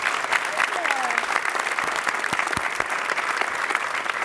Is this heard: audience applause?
yes